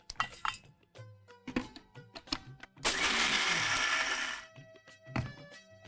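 A kitchen mixer grinder whirs loudly for about a second and a half as it grinds fried moong dal with papdi gathiya, framed by clinks and taps of the jar and lid before and after.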